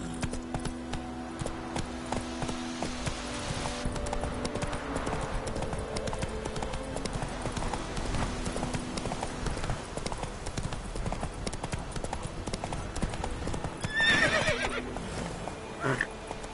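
A horse's hooves clip-clop steadily along in The Witcher 3, with an occasional neigh rising over a continuous game soundscape and background music, at moderate loudness throughout.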